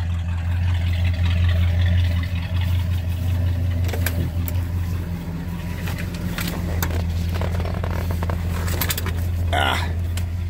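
An old car with a leaky exhaust grumbles at a steady, loud idle, its low rumble filling the whole stretch, with a few clanks and shifts toward the end as it starts to move off.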